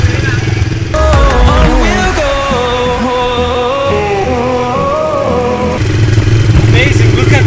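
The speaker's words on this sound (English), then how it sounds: "It was too tempting, so we're gonna get these ATVs." An ATV engine hums steadily at close range while riding, its pitch shifting as the throttle changes, with steady wind and road noise throughout.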